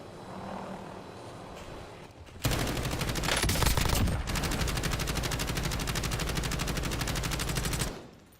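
Gunfire in a video game: after a quiet stretch, a loud sustained burst of rapid automatic shots erupts and rattles on for about five seconds before cutting off abruptly.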